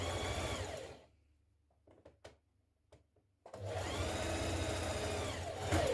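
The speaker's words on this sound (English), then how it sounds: "I'm stitching the side seam of my sleeve, or the inside seam I should say." Sewing machine stitching the inside seam of a sleeve on a refashioned dress, with a fast, loud, whirring run that pauses for a few quiet clicks and then resumes at full speed.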